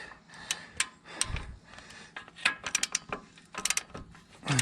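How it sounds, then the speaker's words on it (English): A hand ratchet tightening a bolt on a Dodge Ram 2500/3500 during a 3-inch Rough Country suspension lift, with quick bursts of metallic clicking pawl strokes in uneven clusters, close and clear with only faint clanks between. "I'm gonna tighten this down as tight as I can get it with this ratchet"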